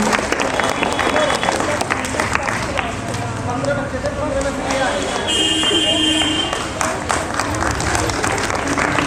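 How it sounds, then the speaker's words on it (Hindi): Loud applause from a crowd at a school event cheering children before a patriotic performance, continuous dense clapping mixed with voices, shouts and tonal buzzing throughout. "जोरदार तालियों से इन बच्चों को अभिप्रेरणा दें व उनका उत्साह बढ़ाएं।"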